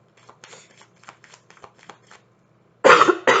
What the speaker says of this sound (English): Still trying to get rid of that cough